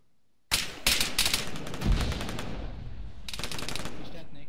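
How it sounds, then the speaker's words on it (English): Rapid automatic gunfire in a competitive capture-the-flag game match, loud close bursts starting abruptly after near silence, then a sustained chatter of shots continuing to the end, with no talking. "One guy shooting you."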